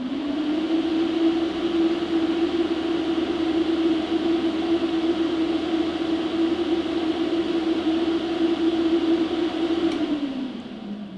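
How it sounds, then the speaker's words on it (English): Loud, steady high-speed cooling fan fitted in a PowerJack 8KW inverter, a constant close-up whir with a strong low hum and broadband air rush, running alone for about ten seconds before starting to wind down. "so that is a very loud fan"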